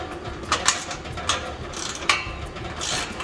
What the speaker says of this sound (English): I'm gonna just slightly snug the clamp